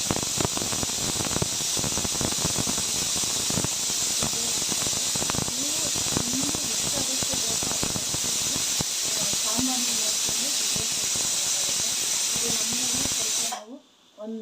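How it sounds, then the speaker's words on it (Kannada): A pressure cooker cooking sambar lets out a long, loud steam hiss that runs continuously for many seconds before cutting off abruptly, with a person talking over it. "ನಾವು ಒಂದು 3 ವಿಷಲ್ ಕೂಗಿಸ್ಕೊತೀವಿ"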